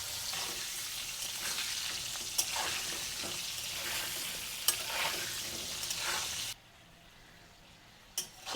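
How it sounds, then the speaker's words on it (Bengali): Potatoes frying in hot oil with turmeric, a steady dense sizzle with a few sharp stirring clinks, then cutting off abruptly near the end to near silence before one last clatter. "দেখো আমার আলু ভাজাটা হয়ে গেছে"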